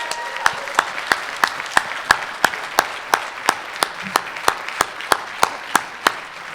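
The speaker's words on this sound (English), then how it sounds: "So let's give ourselves a round of applause." An audience at a summit session claps in a steady, evenly spaced rhythm, about twenty sharp unison claps over several seconds, crisp and fairly close.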